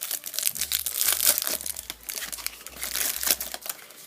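A plastic packet of Yu-Gi-Oh cards crinkles and crackles as it is handled close up, with continuous uneven rustling bursts that swell and fade.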